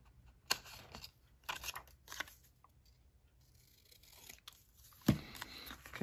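Scissors trimming a printed paper image from an old Australian company, Collections from Memory: a few quiet, sparse snips and paper rustles with near-silent gaps, ending in a sharper crisp cut.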